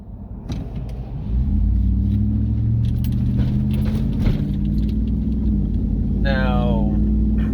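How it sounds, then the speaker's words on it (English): A truck passing close by on a road, a loud continuous low engine rumble that swells after the first second and holds steady, with people talking over it. "Oh, truck."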